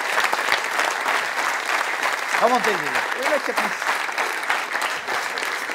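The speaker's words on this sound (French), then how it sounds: "On applaudit monsieur Palachin" Steady audience applause at a French comedy show fills the room throughout, with a host's voice speaking over it briefly in the middle.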